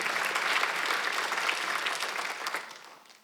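A church congregation at a Sunday worship service claps together in a dense, steady burst of applause that holds for a few seconds and then tapers off at the end.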